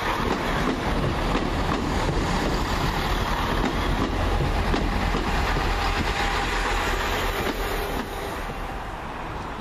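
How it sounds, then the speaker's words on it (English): A Chiltern Railways passenger train rumbles steadily close by as it arrives at Banbury station, with a constant low roar and faint rhythmic clatter of wheels, easing slightly toward the end. "Just coming in, the slightly delayed 1238 Chiltern Railway service"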